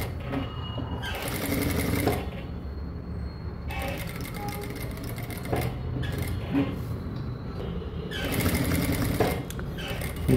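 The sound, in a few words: sewing machine stitching a neckline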